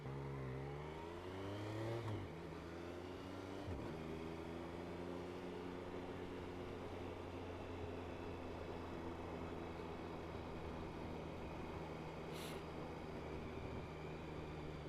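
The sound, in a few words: motorbike engine while riding to Superbike Factory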